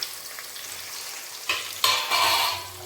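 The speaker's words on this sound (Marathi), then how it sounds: "तो परत भाजून घ्यायचा कांद्याला" Chopped onion sizzles steadily in a hot pan for a Marathi mutton mundi recipe, with a louder surge of frying hiss as it is stirred, close and without speech.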